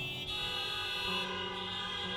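A stadium audience at a large lecture event sounds a dense, sustained chorus of horns, loud and continuous throughout with steady overlapping tones and no talk.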